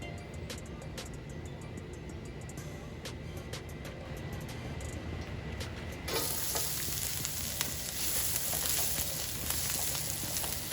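Olive oil and sesame oil heat in a pan with a soft, steady sizzle that turns louder and fuller about halfway through, with scattered light clicks and no talking.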